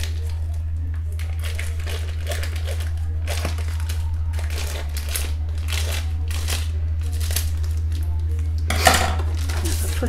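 Plastic packaging on an Aldi pork crackling roasting joint being cut open over a roasting tray, with close crinkling, rustling and soft scraping over a steady low hum, and a brief sharper clack near the end.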